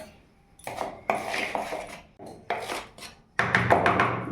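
Sugar and oil being stirred together in a bowl for an eggless fruit cake batter, heard as bursts of scraping and clinking utensil strokes against the bowl, close and fairly loud, separated by short pauses.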